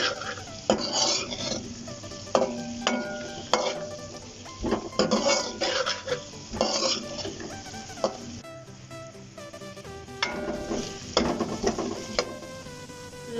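White pepper lightly frying in a pan for chicken Manchurian: a loud, close string of metal scrapes and clinks from stirring, with a light sizzle underneath and no talk.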